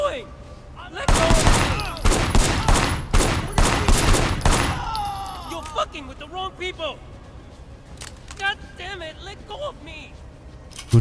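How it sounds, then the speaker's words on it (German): Rapid bursts of gunfire from the game Sleeping Dogs ring out loud and close, several shots fired in quick volleys, then sporadic shots as someone talks over the action. "Ja, zielen, schießen."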